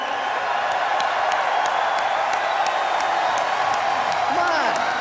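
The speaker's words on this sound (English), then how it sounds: "Come on, slash cheer like you mean it." A large BlizzCon audience cheers and whoops in a sustained, loud crowd roar, with scattered shouts rising over the steady din.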